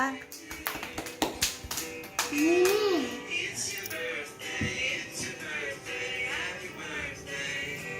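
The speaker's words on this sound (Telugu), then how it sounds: "క్లాప్స్ కొట్టండి బెర్నికా." At a birthday celebration, a short burst of hand claps opens, followed by children and adults talking and calling out over the gathering.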